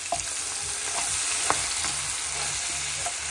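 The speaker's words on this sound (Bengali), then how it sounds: "আচ্ছা চিংড়িটা ভেজে নেই" Shrimp sizzle steadily in a hot pan, giving a close, constant hissing crackle broken by faint scrapes and light clinks of stirring.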